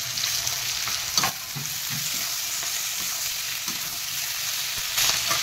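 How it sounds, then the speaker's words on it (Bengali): Onion, peas and chopped tomato fry in a pan with a steady, close sizzle and occasional stirring scrapes, with no voices. "আমি মটরশুঁটি দিয়ে দেবো, আর এই টমেটো কুচিটা দিয়ে দেবো।"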